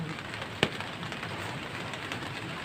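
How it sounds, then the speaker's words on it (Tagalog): Steady, soft rain patters continuously with a hiss of drizzle, broken by one brief sharp tap; no voices. "Naambon pa, guys. Medyo malakas pa."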